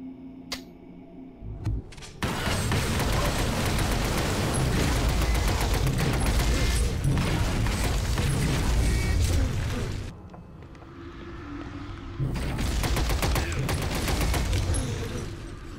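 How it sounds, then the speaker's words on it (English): Deployed turret in the XCOM video game firing on enemies: long loud bursts of rapid mechanical gunfire, a pause around ten seconds, then another sustained volley, with no talk. "He wants to drop that turret down right now and give them a taste of their own medicine."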